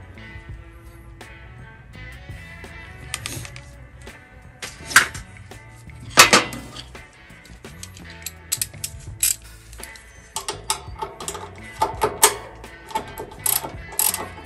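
A ratchet wrench working a 10 mm bolt loose on a Scag V-Ride mower, giving close, sharp clicking bursts and metallic clacks in irregular spurts that grow busier toward the end.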